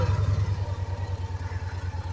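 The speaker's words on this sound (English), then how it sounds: "now let's start this up and you can hear what it sounds like" A Victory Vision Tour motorcycle with its stock exhaust idles at close range, a low, quiet, evenly pulsing rumble.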